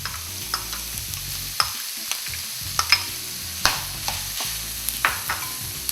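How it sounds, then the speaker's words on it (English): Onions and green chilies frying in a pan for vegetable cutlets, a low sizzle under regular sharp taps and scrapes of a spatula against the pan, close and moderately loud, no talking. "Fry the onions until it becomes a little brown. After it becomes brown, add the green chilies."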